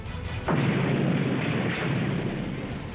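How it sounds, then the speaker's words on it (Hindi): A sudden loud blast from Russian bombing of a shopping mall in Kyiv, caught on CCTV, erupts after a brief lull and rolls on as a heavy, sustained roar. "वहां पर जोरदार धमाका हुआ"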